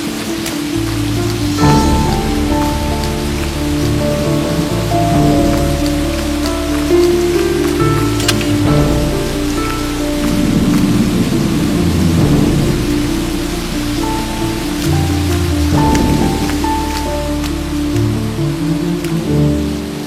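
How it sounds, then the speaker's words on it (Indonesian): Heavy rain in a rainy scene, a loud, steady downpour hissing continuously throughout, mixed with sustained tonal sounds that may be background music. "Hujan tambah deras"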